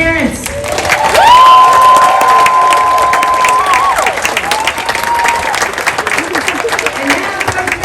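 Parents and families at an elementary school fifth-grade graduation clap and cheer loudly, with a whoop rising above the dense applause, children shouting, and voices mixed in throughout.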